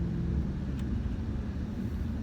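A 2014 Shelby GT500 builds speed on the road, its engine giving a steady low rumble heard from inside the car with no voices over it.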